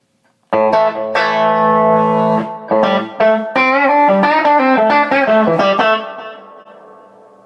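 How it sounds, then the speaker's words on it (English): An electric guitar through a TC Electronic delay pedal plays a run of distinct notes, each followed by a quick echoing repeat that fades fast, ringing out alone and fairly loud. "This is my main go-to country and rock sounding normal, what I call a normal delay."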